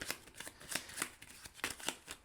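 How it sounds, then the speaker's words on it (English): Playing cards from the Power Rangers: Heroes of the Grid board game are shuffled by hand, giving a close run of quick, papery riffling bursts in an uneven rhythm, with no talking. "And then you take the cards you drew, you shuffle them up"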